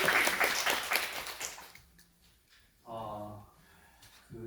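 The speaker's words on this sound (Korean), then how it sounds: "큰 박수 부탁드립니다." An audience at an education symposium applauds a speaker taking the stage. The clapping is moderate at first, then fades out over about two seconds, and a voice begins speaking afterward.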